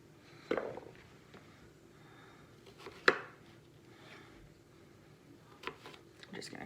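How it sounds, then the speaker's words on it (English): A knife cuts sweet potatoes into quarters on a cutting board: a few sparse, sharp chops spaced seconds apart, moderately close over quiet room noise, with no speech. "just gonna cut it in quarters"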